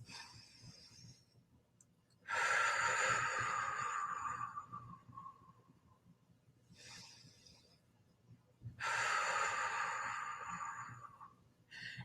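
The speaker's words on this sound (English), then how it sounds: "So just taking some deep breaths." Two long, slow breaths drawn in and let out near the microphone, each lasting several seconds with quiet pauses between them, taken as a calming exercise with no talking.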